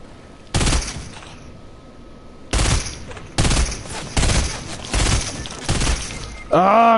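Gunfire in the video game Fortnite comes in several sharp, loud bursts, each followed by a brief ringing tail, with quieter gaps between them and a voice speaking near the end.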